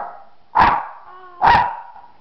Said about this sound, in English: Would you hush, dog?